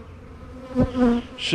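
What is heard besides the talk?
bees buzzing around queens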